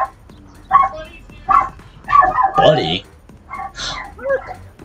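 Dog barking in Splatoon 3, a few short yips and bow-wows in quick succession, close and fairly loud, mixed with a voice speaking briefly.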